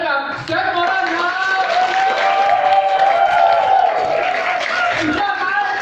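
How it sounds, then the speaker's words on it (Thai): Audience clapping for a guest speaker at a Thai seminar before a break, a loud, dense wash of applause running steadily throughout, overlaid by a prominent voice talking or calling over it. "ขอเสียงปรบมือดังๆให้กับแจ็คมอร์รันครับ"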